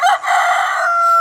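A rooster crows once in a single loud, close, sustained call that rises and holds before trailing off, heard alone with no talking.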